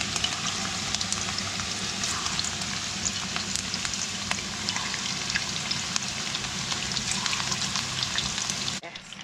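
Meatballs fry in hot oil in a pan with a loud, dense, continuous crackling sizzle that stays even throughout and cuts off abruptly just before the end.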